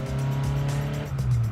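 A Chevy 350 V8 idling steadily in a mini truck with an unchanged clutch, a loud, even low rumble close by, heard alone.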